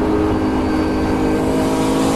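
Classic Thunder race cars, a Nissan and a Falcon battling for the lead at Cadwell Park, roar past in a dense, loud, continuous engine blare with layered revving, no clear talk.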